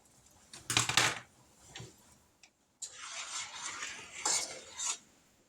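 Metal utensil stirring beef stroganoff with potatoes and carrots in a pot on the stove, giving bursts of scraping and clinking in two separate spells with quiet gaps, close and moderately loud.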